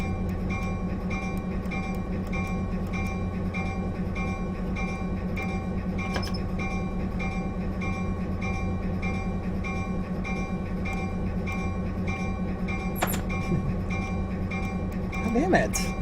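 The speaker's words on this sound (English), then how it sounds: "I have to apply throttle a little bit so I can actually get the damn train out of the damn switch" Train locomotive in the Railworks simulator rolling slowly through a track switch, a steady low rumble and drone with faint clicks, a brief horn-like tone near the end, under a talking voice.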